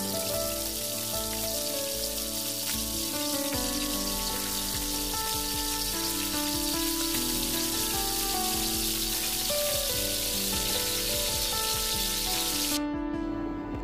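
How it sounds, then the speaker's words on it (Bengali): Pointed gourd pieces fry in hot oil over medium heat for shorshe potol, a dense, loud, unbroken crackling sizzle that holds steady and close for the whole stretch, with no voices. "তেল গরম হওয়ার পর পটলগুলোকে আমি হালকা বাদামি রং না হওয়া পর্যন্ত ভেজে নিব মাঝারি আঁচে"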